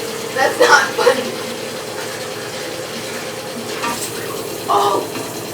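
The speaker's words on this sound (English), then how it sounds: "the water just like spurted out" Water spurting and gushing out of an overflowing toilet after a flush, with splashy bursts near the start and again later, under excited voices talking.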